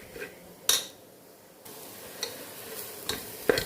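Masala for beef curry stirred in a pan, with sharp metallic clinks and scrapes of a spoon against the pan over a faint sizzle, irregular and close.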